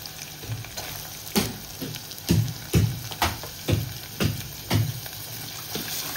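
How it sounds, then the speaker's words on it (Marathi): Chopped onion drops into hot oil already holding curry leaves, chili, ginger and garlic for a home-style dal bhat meal, with a steady sizzle broken by repeated loud stirring scrapes about every half second. "आता कांदा टाकूया आपण।"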